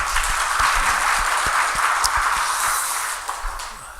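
Church congregation at a Sunday afternoon service in Suwon applauding the worship team, a steady dense wash of many hands clapping with occasional louder claps, continuous for several seconds without speech.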